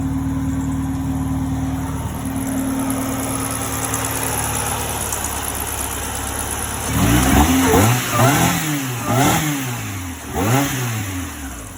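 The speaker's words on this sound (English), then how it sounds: "And I give it a couple revs. You could hear the supercharger whine" A Honda Prelude with an H22 engine and a Jackson Racing supercharger idles steadily, then revs up in several quick blips, each rise carrying a supercharger whine, close and loud with no voices.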